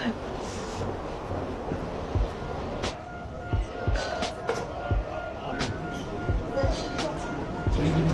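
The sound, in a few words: metro train underground in China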